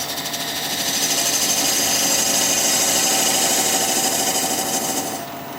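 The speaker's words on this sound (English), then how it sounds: "So the lathe is spinning at about 800 RPM." Wood lathe spinning at about 800 RPM while a vase is turned, a steady loud whirring drone with a rough, buzzing cutting texture throughout, close up, easing off slightly at the very end, no voices.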